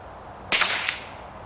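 A rifle fired once with a moderator fitted and subsonic ammunition, a sharp suppressed crack with a quick echo just after and a short fading tail, close and alone.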